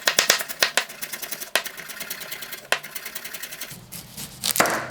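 A knife cuts vegetables into small pieces on a board, giving quick, crisp chops in clusters, sharp and close, with brief gaps between them.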